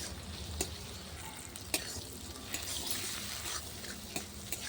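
Onions frying in a pan over a clay stove until browned, a steady close sizzle with occasional sharp crackles and pops throughout.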